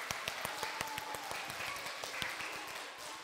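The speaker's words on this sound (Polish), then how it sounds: "Oklaski dla wszystkich." Audience at a chamber concert for preschoolers breaks into applause, a dense crackle of many hands with sharper individual claps popping out, steady and fairly close, with no speech over it.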